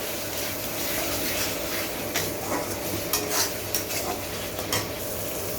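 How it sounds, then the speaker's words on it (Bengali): Spice paste with cumin powder frying in a pan for aloo fulkopi, a constant close sizzle broken by repeated scraping stirs and metallic utensil knocks against the pan. "জিরের গুঁড়ো কাঁচাও দিতে পারেন, কারণ এখন মশলাটা ভাজা হচ্ছে,"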